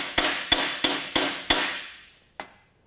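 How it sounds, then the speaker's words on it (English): A hammer taps a metal part from a 1969 Chevy van on an anvil, five sharp ringing strikes in steady rhythm, then a pause and one final tap. "Use an anvil if you have it, and give it a little tap."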